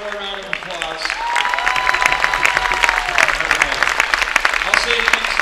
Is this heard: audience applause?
yes